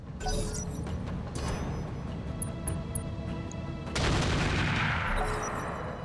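Turrets in the BattleTech RogueTech mech game fire in a dense, continuous barrage of loud gunfire and crashing impacts, building to a heavier burst of blasts partway through.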